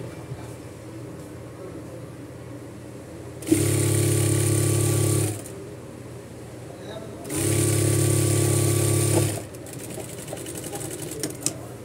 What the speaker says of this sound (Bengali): সেলাইয়ের সাথে সাথে আমরা ডাবল করে কাপড়টাকে সেলাই দিয়ে নিতেছি।